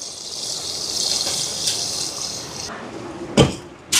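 Coconut milk, the second and third extract, poured into a simmering chicken curry, a steady close liquid trickle and gush for several seconds that stops abruptly, followed by a couple of short clinks.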